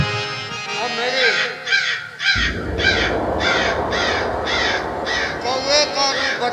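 A crow's caw is mimicked in repeated harsh, rhythmic calls during a Ramlila stage play, loud and close over a crackling sound system. A performer's voice imitates the bird.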